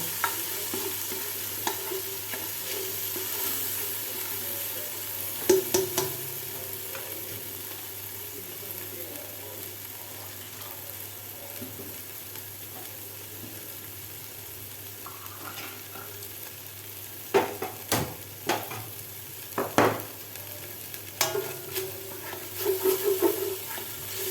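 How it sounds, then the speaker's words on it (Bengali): Chicken tikka masala frying in a pan sizzles steadily up close while a spoon stirs and scrapes, with clusters of louder clatter and knocks toward the end and no speech. "কাঁচা গন্ধ যাওয়া পর্যন্ত আমি এটাকে নেড়ে ছেড়ে একটুখানি ভাজা ভাজা করে নেব"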